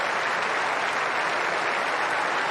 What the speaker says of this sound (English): hear the round of applause in the background